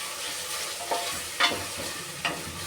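A green paste of ginger, garlic, green chilli and mint fries in a pan with a steady soft sizzle, punctuated by a few scraping stirs of a spoon.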